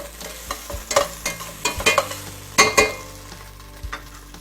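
A spoon stirs half a teaspoon of salt into a Mexican-style pot roast with chipotle and cumin, giving a series of distinct scraping knocks against the pot over a faint sizzle, with two louder clunks midway.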